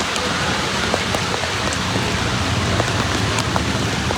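Heavy monsoon rain pours steadily over Dwarka, a dense, unbroken hiss of drops on surfaces with faint scattered patters throughout, loud and close with no voices.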